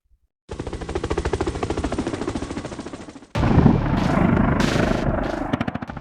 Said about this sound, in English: The Apache comes equipped with a 30mm chain gun capable of shredding targets